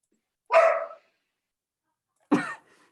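A dog barks twice, a single sharp woof followed after a pause by a second, each one near and clear against silence.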